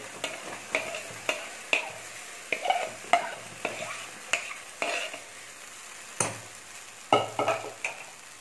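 Jackfruit halwa stirred with a long ladle in a pan over a medium flame, giving repeated scraping strokes in a steady rhythm roughly every half second over a soft sizzle.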